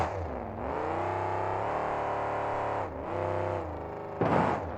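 The monster truck Reckless Red, fitted with red underglow, revs its engine hard through a sky wheelie at a 2007 freestyle event in Salinas, California. The sustained, close roar dips briefly and then climbs again.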